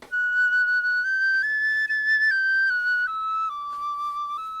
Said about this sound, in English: specifically a piccolo flute, a very small member of the flute family that has a high pitched sound